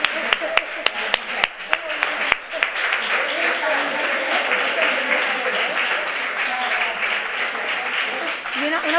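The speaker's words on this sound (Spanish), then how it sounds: "Un aplauso, sí." An audience applauds at a talk. Several loud, sharp individual claps open the clip, then the clapping swells into a sustained, steady ovation from many people nearby, with voices faintly mixed in.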